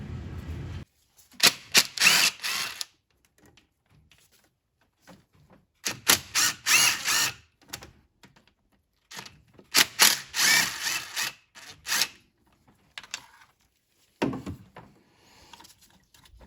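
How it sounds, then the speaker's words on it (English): A power tool backing out the three 8mm bolts on the aluminum thermostat housing of a 2006 Ford Explorer, loud whirring bursts in several separate runs with quiet pauses between. "we're going to go ahead and remove the 3 8mm bolts here connecting the"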